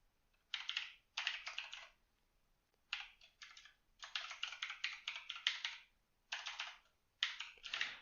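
Fast typing on a computer keyboard in bursts of rapid clicking, separated by short pauses, close and crisp with a quiet background and no speech.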